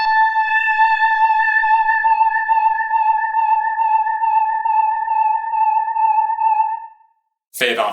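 A clean electric guitar note played through a Line 6 Helix with a repeating loop effect rings steadily for about seven seconds, then fades out as the volume is rolled off, followed by a brief noisy burst.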